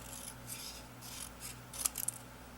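Scissors trim the bottom edge of a paper journal card, a few quiet snipping cuts near the end after soft rubbing and handling, close and faint with no talking.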